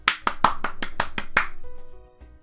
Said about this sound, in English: From the hall there's clapping and cheering from the fans.